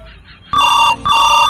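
A telephone rings in two loud electronic bursts, close and clear, each trill lasting about half a second after a brief quiet start.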